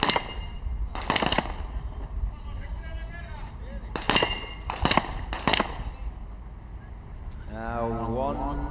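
Rifle gunshots at a SWAT shooting challenge, heard as loud sharp cracks in uneven clusters, some in quick pairs, with a commentator talking between them.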